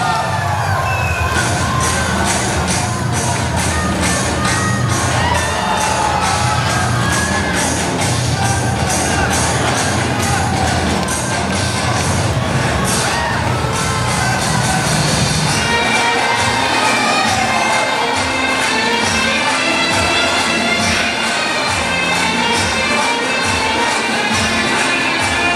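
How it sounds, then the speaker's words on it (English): A gymnastics arena audience cheers and shouts loudly and continuously, a dense roar of voices that swells and shifts over the whole stretch, with music faintly underneath. "She can barely hear the music on top of the cheering that the audience is making."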